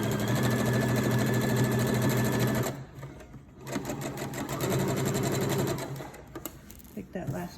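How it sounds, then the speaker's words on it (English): A sewing machine stitches fabric along a 5/8-inch seam, giving a steady close mechanical whir that drops away briefly near the three-second mark, then resumes and tapers off at the end. "You just let the machine do the work and your stitches will line up."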